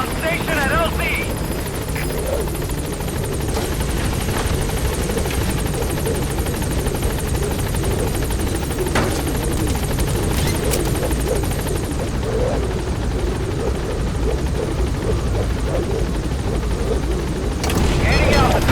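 A helicopter arrives at a landing zone in Metal Gear Solid 5, its loud rotor roar and engine drone filling the scene continuously, close and heavy, with radio voice chatter and occasional distant booms beneath.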